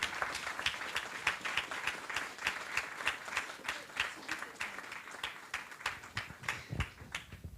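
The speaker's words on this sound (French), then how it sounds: "Et on peut les applaudir." Clapping breaks out for award laureates at a French prize ceremony, a crowd's applause with sharp, distinct individual claps near the microphone, continuing steadily for several seconds.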